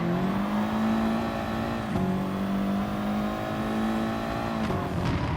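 A race car engine in a racing video game holds a steady high drone, with a brief dip as the car brakes into a corner and climbs back out, constant and loud throughout.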